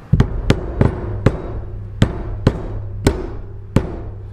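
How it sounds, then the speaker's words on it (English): Butt end of a hammer tapping a suspension part into place during a suspension rebuild: about eight sharp metallic knocks at a slightly uneven pace, close and loud, each with a short ringing decay, no talking. "then I'll just use butt end of the hammer"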